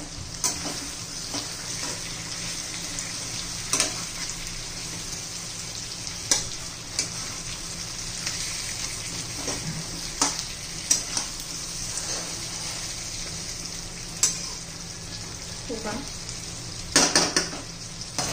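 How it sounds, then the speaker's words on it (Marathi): Stuffed masala capsicums sizzle steadily in a pan, with a constant frying hiss and intermittent metallic scrapes and clinks as they are stirred and turned. "पुन्हा एकदा आपण हलवून घेऊया त्या."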